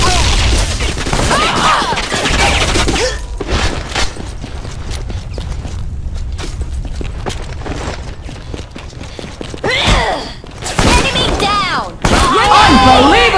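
Grenade blasts and gunfire in the shooter game M.A.R.S battle royale at an airport map, loud thuds and bursts crowding the scene with brief pauses between clusters of impacts.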